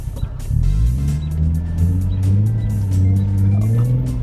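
A Nissan 350Z is put in gear and pulls away, its engine note rising and falling through several low harmonic sweeps as it accelerates, close and fairly loud, with faint rattles over the top.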